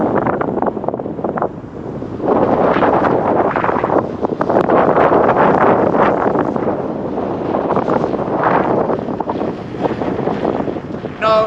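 Strong, roaring wind buffets the microphone in heavy gusts while riding a motorcycle, loud and continuous with brief lulls near the start.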